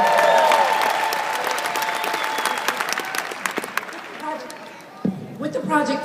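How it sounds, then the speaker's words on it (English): A crowd claps loudly and steadily after an audience member is praised, the applause thinning out toward the end as a voice and scattered chatter come through. "Give him a big, big, big round of applause."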